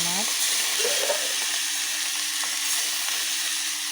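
Fish pieces fry in hot oil in a wok, giving a steady, close sizzling hiss throughout, with a brief voice-like sound near the start.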